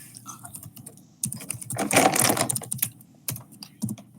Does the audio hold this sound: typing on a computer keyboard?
yes